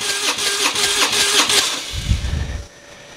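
A Harley-Davidson Twin Cam engine cranks over at full throttle during a compression test, with a fast rhythmic starter churn close by that ends with a short low thump and then drops away.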